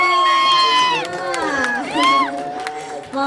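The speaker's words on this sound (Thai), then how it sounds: "ขอเสียงปรบมือ" A crowd at a live Thai mor lam show cheers during an on-stage game with VCD prizes. Excited shouts and high voices rise and fall in loud overlapping bursts, with little distinct clapping.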